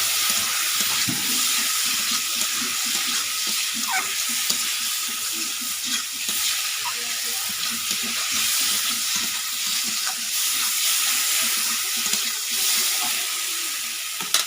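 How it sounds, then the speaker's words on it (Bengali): Water pours into a pan of frying spiced banana flower fritter curry with fried potatoes, a continuous splashing hiss over the sizzle, steady and close with faint stirring. "পরিমাণ মতো জল দিয়ে দিচ্ছি।"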